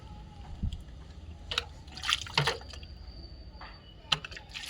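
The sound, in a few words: water being poured onto a potted plant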